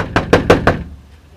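Four quick, evenly spaced knocks on a house door, fairly close and crisp, followed by quiet.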